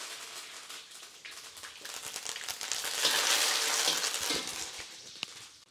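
Guntur red chillies crackle and sizzle in hot tempering oil for sambar, a dense, close spitting hiss with quick pops that builds to a loud peak midway and then eases off, with no voices.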